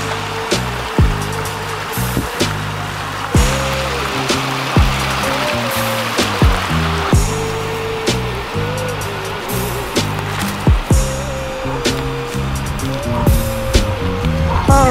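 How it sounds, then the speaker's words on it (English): A waterfall in the Pacific Northwest outdoors gives a steady, loud rush of falling water that fills the scene continuously, with scattered knocks and tones over it. "What you call a waterfall. Get it? There's water falling."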